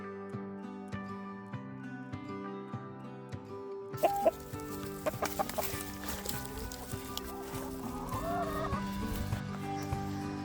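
Chickens in a homestead chicken run cluck and squawk close by, with a series of sharper, louder calls partway through over a busy backdrop of steady clucking.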